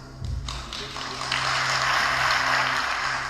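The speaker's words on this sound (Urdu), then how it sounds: "پورا ہال تالیوں سے گونجنے لگا تھا" Audience applause fills a lecture hall at the end of a talk, building from scattered early claps into a steady, sustained wash of clapping that stays loud for several seconds.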